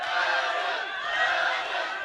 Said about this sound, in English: Crowd cheering on LT.